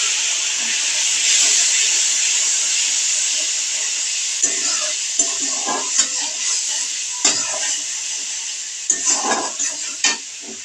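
Water hitting a hot pan of turmeric for a Bengali mustard-paste fish dish gives a loud, steady sizzling hiss, with brief utensil scrapes and clinks breaking in toward the end.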